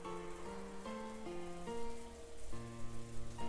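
Rain sound effect from the Umineko visual novel: a soft, continuous hiss sits beneath a stepping melodic music line, with no voices.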